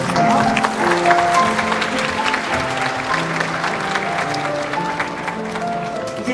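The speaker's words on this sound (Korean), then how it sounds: "축복의 박수 다시 한번 드릴게요" Wedding guests applaud steadily during a ceremony, a continuous wash of clapping lasting the whole stretch with soft music tones running beneath it.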